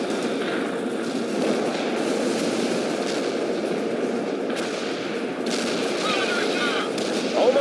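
Artillery fire in the World in Conflict video game, a dense, continuous roar of gunfire and blasts that stays loud throughout with no pauses, and no voices over it.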